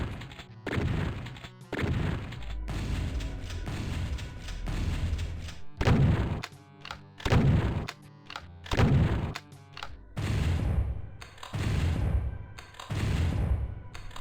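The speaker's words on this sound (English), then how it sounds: "the shotguns have an aggressive weight to their sound effects" Shotgun and super shotgun blasts from DOOM 64 boom out one after another, heavy, punchy shots with reverberant tails recurring roughly every second, loud and close with no talk.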